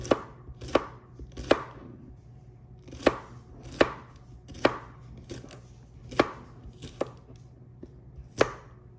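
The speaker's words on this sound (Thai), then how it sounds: "นี่หั่นบางๆแบบนี้จ้ะ" Crisp knife strikes on a board, close and fairly regular, thinly slicing firm okra. No voices.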